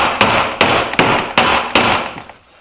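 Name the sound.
wrench smashing metal body panel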